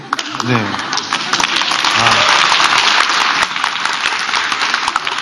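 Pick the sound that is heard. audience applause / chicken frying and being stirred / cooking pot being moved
audience applause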